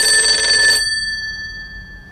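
An old telephone bell rings indoors in a 1948 Beiping spy-drama scene. It gives one short, bright burst of ringing that cuts off and fades into quiet.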